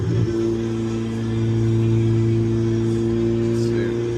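A straight-piped Ferrari 488 engine heard from inside the car while driving, a loud steady low drone that swells slightly midway, with no one talking.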